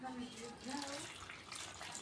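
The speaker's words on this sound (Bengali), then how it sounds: "এবার আমি একটু একটু করে জল দিয়ে দেবো, দিয়ে এইভাবে আমি নেড়ে আমি ব্যাটারটা তৈরি করে নেব" Water trickles gently in small additions into jali chitoi pitha batter, a faint, steady, close pour with a low hum and soft voices underneath.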